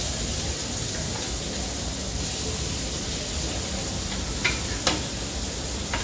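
Chopped onion dropped into hot oil on a tava sizzles in a loud, dense, continuous hiss, with a couple of brief scraping touches near the end.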